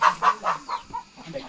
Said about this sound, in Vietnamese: Đấy, gà đang ấp trứng.